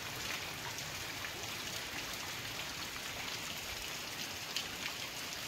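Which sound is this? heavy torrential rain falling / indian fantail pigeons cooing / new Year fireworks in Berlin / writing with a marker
heavy torrential rain falling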